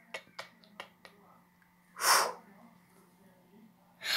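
A single sharp sneeze bursts out loud and clear, preceded by a few soft clicks and followed by another burst starting at the end.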